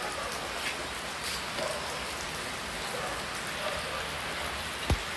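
Steady rain hisses down across a surface, with a dense, even wash of drops and a faint thump near the end.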